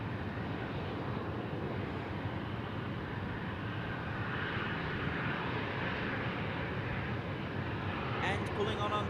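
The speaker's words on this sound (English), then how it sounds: "And pulling on onto the runway, velocity 858 bound for Melbourne." Velocity jet airliner, flight 858 to Melbourne, lining up on the runway, a steady broad engine roar held at moderate distance throughout, with a brief brighter whine near the end.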